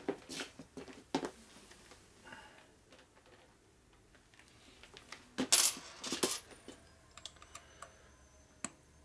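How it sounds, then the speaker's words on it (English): A small metal screw from a Revtech shovelhead transmission rebuild drops and clatters onto a shop floor, a sharp bright tick with a few quick bounces amid scattered light workshop clicks. "Screw just went to the floor."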